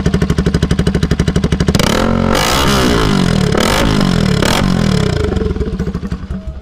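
Bajaj Pulsar RS200 motorcycle on its stock exhaust, idling with a steady close-up putter before several loud revs that rise and fall, then settling back to a throbbing idle.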